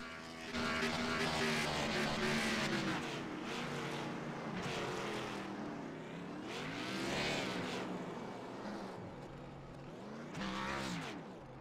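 Race car in the iRacing video game doing burnouts after a Cup Series win at Texas, a loud sustained engine roar that rises and falls in waves with tire squeal throughout.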